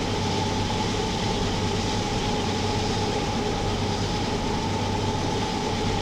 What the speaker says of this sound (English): It's like that deep hum, that deep bass hum that you hear whenever a train rolls by.